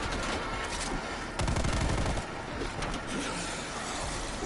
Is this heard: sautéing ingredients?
no